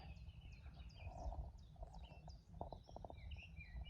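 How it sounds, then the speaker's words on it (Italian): Small birds chirp and tweet in quick high bursts, a few calling at once, over a low steady outdoor rumble on Monte Pizzoc. "E si sentono solo gli uccellini."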